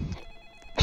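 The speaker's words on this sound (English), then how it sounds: "let me answer the phone" A telephone rings in a Roblox horror game styled on the FNAF 1 phone call, one short ring burst with steady high tones and a loud onset at the very end.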